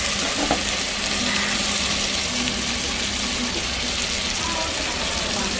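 Mint, tomato and yogurt frying together in a pan for chicken biryani, a loud, even sizzle with stirring that stays close throughout, with faint talk in the background.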